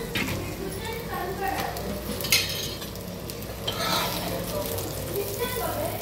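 An onion paratha fries in plenty of oil on a flat pan, with a steady dense sizzle, occasional scraping and clinks of a utensil, close up, while a person talks over it.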